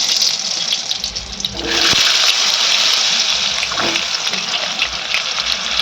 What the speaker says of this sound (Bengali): তেল আমার গরম হয়ে গেছে পটলগুলো দিয়ে দেবো